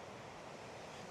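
River rapids rush over rocks at Glen Orchy in the Scottish Highlands, a continuous broadband roar of water, faint and steady, with no voices.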